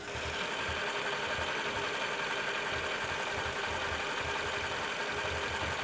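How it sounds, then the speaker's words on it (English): A car engine idles at a steady low rumble with faint irregular pops mixed into the hum, close and moderately quiet, no voices. "this is a popping sound coming from our engine, and it's random in its frequency"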